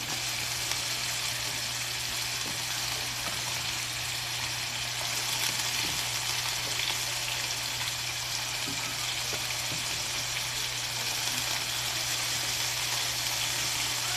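String beans are dropped into a pan of sautéing vegetables with tomato and leftover fried fish, producing a steady, even sizzle with a faint low hum and no voices.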